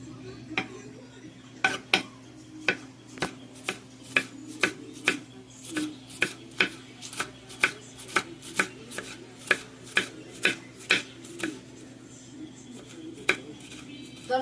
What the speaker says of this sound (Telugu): దొండకాయలు కట్ చేసుకోవటం అయిపోయిందండి.